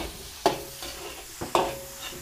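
Garlic sautés in a pan: two distinct scraping stirs over a light, close sizzle.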